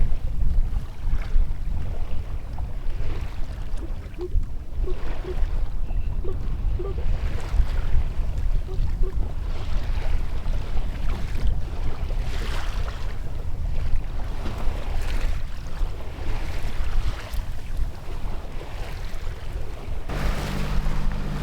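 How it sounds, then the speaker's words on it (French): Wind rising over a sailboat on open water, a steady rushing, blustery roar buffeting the microphone with splashing waves beneath, surging in gusts and fairly loud throughout, no voices. "Oh, le vent, il augmente un peu, là."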